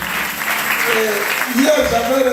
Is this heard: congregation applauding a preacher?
yes